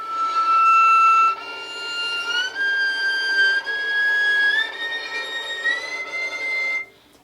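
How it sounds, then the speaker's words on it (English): Violin playing an artificial harmonic with the first finger pressing and the fourth lightly touching the string, a pure flute-like whistling tone sliding upward in small steps, loud and close, then stopping. "It sounds a little bit like a flute or like whistling"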